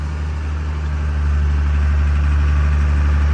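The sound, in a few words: vehicle engine running after shifting gear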